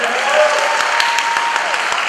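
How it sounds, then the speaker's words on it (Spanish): Guests at a quinceañera celebration break into strong applause, a dense, steady clapping crowd with scattered crisp individual claps and faint voices mixed in. "Vamos a darle fuerte el aplauso,"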